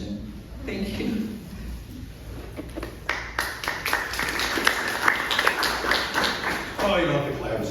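A single person clapping at a bicycle museum dedication ceremony, a series of sharp claps coming close together in an uneven rhythm, close and moderately loud, with room murmur underneath.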